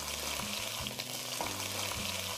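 Pork ribs sizzle and fry steadily in hot oil with ginger slices and scallion in a wok, a continuous crackling hiss with no talk.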